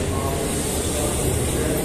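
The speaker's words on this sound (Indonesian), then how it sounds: "Dia masuk di jalur 3 KRL Komuter Line tujuan akhir stasiun Bogor." A KRL Commuter Line electric train bound for Bogor rolls into track 3 at Depok Baru station, a loud, close, continuous rumble of wheels and motors with no pause across the short stretch.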